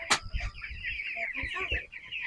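A group of three-week-old broiler chickens clucks and peeps close by, with overlapping chirps and short clucks running throughout.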